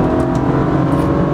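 A BMW 335i tuned to about 400 horsepower, held in third gear while driving, with the engine revving hard under load. The drone is loud, steady and close, with no talk over it.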